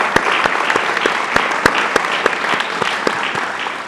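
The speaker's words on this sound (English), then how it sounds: "I want to invite the rest of our audience members in a round of applause to thank Dr. Felix" An audience claps steadily in a round of applause thanking a guest lecturer at a university honors colloquium, dense and even throughout with a few sharper claps standing out.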